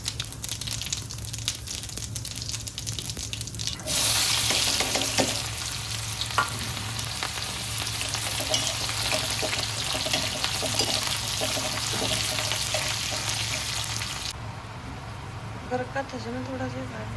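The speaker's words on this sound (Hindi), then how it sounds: "तो यहाँ पर मैं लग गई हूँ तड़का करने।" Tadka being prepared in a home kitchen, spices sizzling and frying in hot oil in a pan, a strong bright hiss that starts abruptly and holds steady for about ten seconds before cutting off, with someone talking over it.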